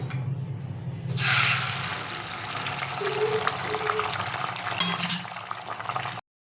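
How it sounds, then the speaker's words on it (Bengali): Beaten egg seasoned only with salt goes into hot oil and bursts into a loud, bright sizzle after a quiet start, frying steadily for several seconds with faint stirring, then stops abruptly. "এবার আমি ডিমটা দিয়ে দেবো।"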